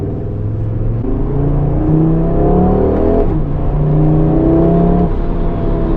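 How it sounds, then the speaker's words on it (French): An Audi RS3 accelerates on a slightly damp road, its engine note climbing steadily through rising revs, loud and close, with a brief dip around a gear change before pulling hard again. "Ah, elle part la voiture, et quand la route elle est un peu humide par terre"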